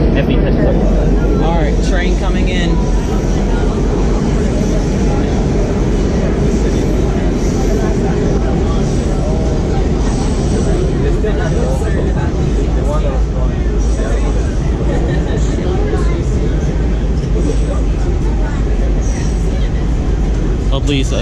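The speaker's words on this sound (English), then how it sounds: "train coming in" A WMATA Kawasaki 7000-series Red Line metro train rolls into a station with a loud, continuous roar, its deep rumble and rattle filling the platform while people talk nearby.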